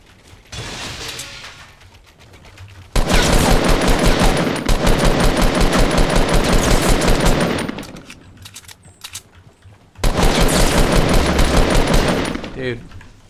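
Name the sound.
gunfire in the video game Fortnite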